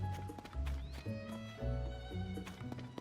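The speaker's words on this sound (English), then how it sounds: "Oh, look at the donkey." Donkey hooves clip-clopping in The Legend of Zelda: Tears of the Kingdom, a soft, steady trotting patter mixed with game music, fairly quiet.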